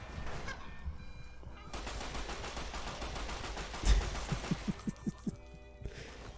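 Gunfire in the video game Fallout: New Vegas: a sharp heavy shot, then a quick run of several rapid reports, set against steady game ambience.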